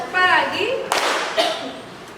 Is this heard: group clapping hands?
yes